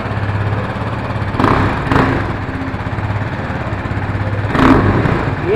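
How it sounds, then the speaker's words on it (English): A new KTM RC 390 motorcycle revved at a showroom in Langford: a steady loud single-cylinder exhaust drone close to the microphone, punctuated by three sharp throttle blips that briefly swell the note. "He just give you a rev bomb exhaust note. Yeah, this is a new 390."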